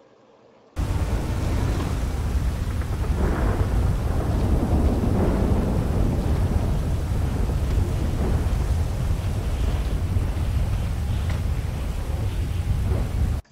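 Heavy rain pours in a dense, constant hiss while deep thunder rumbles through it, loud and continuous after a quiet start.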